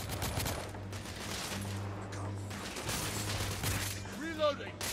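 Gunfire from a Victorian-era shooter video game, The Order: 1886: dense, continuous volleys of shots under a steady low hum, with a brief whooshing flourish near the end.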